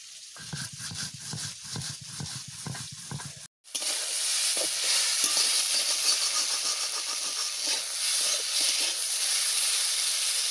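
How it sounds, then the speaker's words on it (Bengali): Fish fries in a pan, first with crackling spits and pops, then, after a brief gap, a loud, constant sizzling hiss from close up. "এখনো ভাজা হয়নি, এখনো অনেক সময় ভাজতে হবে।"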